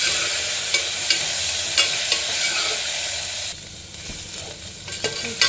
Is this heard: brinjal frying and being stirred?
yes